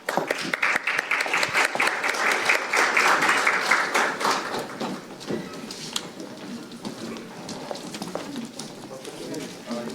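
At a National Assembly forum on training maritime officers, the audience claps in a dense burst for the first half, then thins to scattered claps and rustling with some voices underneath.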